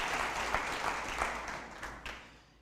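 Church congregation clapping during a sermon, a faint, steady patter of scattered hands that thins out and fades toward the end.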